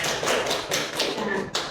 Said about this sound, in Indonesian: Ya, beri aplaus dulu untuk Mutia.